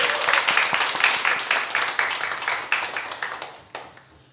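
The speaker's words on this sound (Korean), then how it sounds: "우리 젊은 세대들을 위해서 박수 한번 주시면 좋겠습니다" Warm applause fills a Korean church sanctuary, with many hands clapping rapidly and steadily at close range, tapering off over a few seconds.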